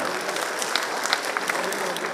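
A crowd at a devotional gathering applauds loudly, with brisk, dense clapping that stays steady and close throughout the short stretch.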